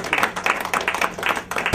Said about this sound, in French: On acclame très fort, s'il vous plaît.